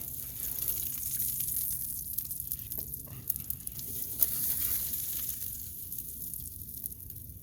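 Smash burger patties sizzle on a hot grill with a steady, close hiss and frying crackle, a few sharper pops and scraping taps along the way and no talking.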